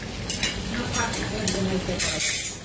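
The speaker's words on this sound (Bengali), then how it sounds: "কিন্তু এটা একটু কড়া ভাজি করতে হবে" Koi fish (climbing perch) frying crisp in a pan, a steady sizzle with stirring and utensil scrapes, voices talking over it.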